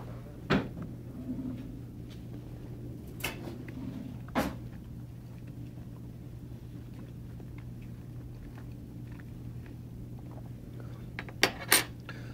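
Rummaging in a kitchen cupboard and drawer for a knife, with a few sharp knocks and clatters near the start and a quick cluster near the end, set against a steady low hum.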